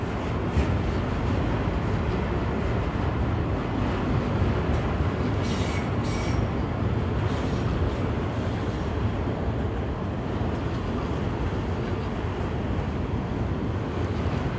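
A long Union Pacific freight train crosses a bridge nearby, rumbling and clattering past without pause, a loud continuous roar of rolling wheels with occasional faint metallic squeals.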